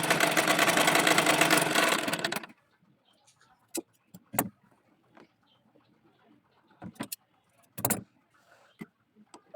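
A sewing machine stitches seams on a baby dress of single-colour gauze fabric, a loud steady whir for about two seconds before cutting off, followed by scattered small clicks and handling knocks in near silence.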